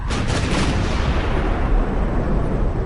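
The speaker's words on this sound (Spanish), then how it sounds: "ordena que se dé un cañonazo desde Guadalupe" A single heavy cannon shot from a Battle of Puebla sound effect, a loud, close blast with a sudden onset that rolls into a long, dense rumble and stays strong through the clip.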